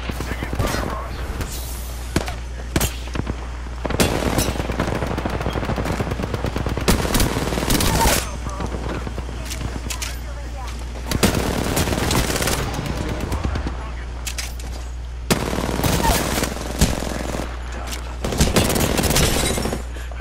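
Automatic weapons fire in the video game Apex Legends comes in loud, rapid bursts separated by short pauses, with sharp single shots mixed in over a constant low game rumble.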